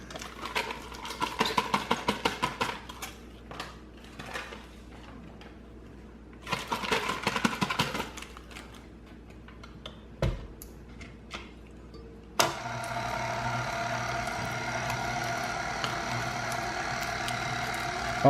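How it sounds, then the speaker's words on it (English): An electric mixer beating cream cheese, started on a low setting: rhythmic clattering bursts of whirring with pauses between, then a sustained, louder, steady motor whir running until the end. "It says keep the mixer on a low setting, but we're going to beat the cream cheese"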